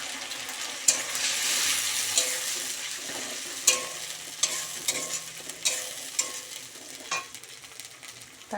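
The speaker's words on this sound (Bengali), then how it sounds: "পেঁয়াজটা একটু লাল লাল করে ভাজা ভাজা হয়ে গেছে" Onion browning in a pan with ginger, cumin, chilli and garlic paste makes a steady close sizzle, broken by repeated sharp scrapes and taps of a spatula stirring, with no talking.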